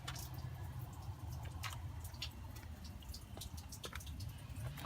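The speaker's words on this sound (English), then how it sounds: "let my whatever water's left in the hot water heater drain" Leftover water draining from an RV hot water heater, a close soft patter of irregular drips and small splatters over a low steady rumble, with no talking.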